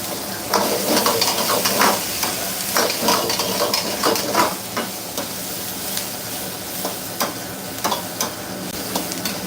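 Onions and spices stir-fried in oil for Persian-style tom yum fried rice, a constant sizzle broken by repeated scraping and clinking of a spatula against the pan.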